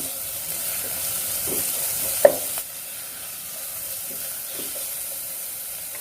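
Ginger-garlic paste sizzles in a hot pan while kabsa is being cooked, a soft steady frying hiss with one sharp clink of a utensil midway and faint stirring scrapes.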